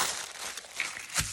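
Paper crinkles close by as a craft gift is unwrapped, with short rustling crunches and a sharper crackle near the end.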